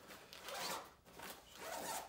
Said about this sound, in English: a waterproof zipper.